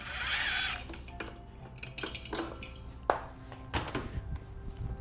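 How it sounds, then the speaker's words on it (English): Motorcycle brake calipers pulled free after the last bolt comes out, with a series of close metallic clinks, scrapes and knocks, irregular and loud, alone without speech. "now I can easily pull out both of these calipers"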